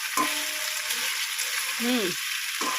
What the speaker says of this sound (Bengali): এখানে চিকেনটা ভেজে নিচ্ছি